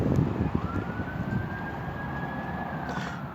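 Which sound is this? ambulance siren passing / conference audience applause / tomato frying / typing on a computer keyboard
ambulance siren passing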